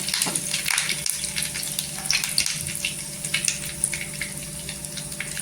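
Cumin, mustard seeds and curry leaves sizzle steadily in hot oil, a close, continuous crackle with scattered sharp pops throughout.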